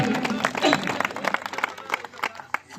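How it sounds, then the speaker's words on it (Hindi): An audience at a Jain festival celebrating the birth anniversary of Lord Mahavir claps in a scattered, uneven burst, partly under a voice speaking. "एक बार तालियां बजा दीजिए।"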